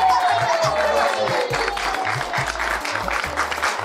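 Studio audience applause for the winning pair on a Marathi women's game show, loud continuous clapping from a crowd with a faint cheer, rhythmic music beats and a descending tone sweep underneath.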